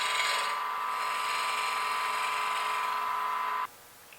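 Wood lathe spinning a wooden yo-yo while its sides are rounded over, a steady, close mechanical whir with a faint tonal hum and a scraping edge that stops abruptly near the end, no talking.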